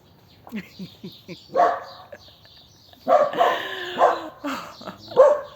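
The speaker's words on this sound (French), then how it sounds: "C'est le chien de la voisine." A neighbour's dog barks in short, repeated bursts nearby, with some whimpering yips between them and no talk over it.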